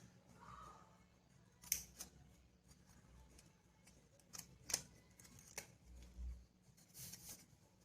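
Scissors snip paper triangles for a tri-colour kids' craft, giving a handful of soft, crisp cuts spaced unevenly against a quiet room background.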